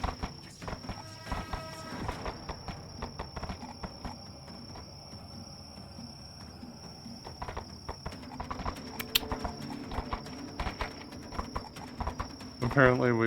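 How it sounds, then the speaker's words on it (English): Horses' hooves clip-clop along a pathway toward a main road in the game VRChat, a steady patter of light hoofbeats heard under continuous talk and background game ambience. "My horses should be coming up the pathway that leads to the main road."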